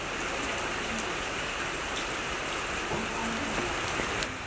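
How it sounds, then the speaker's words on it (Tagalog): Steady rain falls on a plant farm growing unusual plants and grape cuttings, a dense continuous hiss with scattered drop patters, even and fairly close throughout. "umuulan lang talaga"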